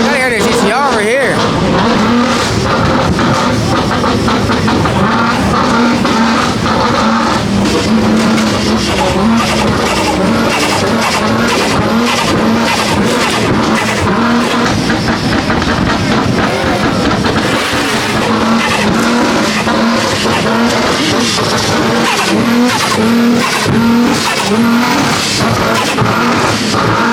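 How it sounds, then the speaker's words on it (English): A Nissan GT-R revs hard with loud tire skidding and squeal at a night car meet, the engine roar and screeching continuous and close, with crowd voices talking underneath. "I gotta hear this GTR over here."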